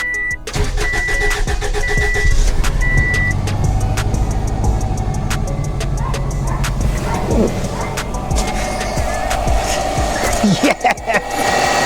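A freshly rebuilt turbo Subaru Baja engine cranks and catches on its first start, then settles into a loud, steady idle with some clatter; a dog barks and voices talk briefly nearby.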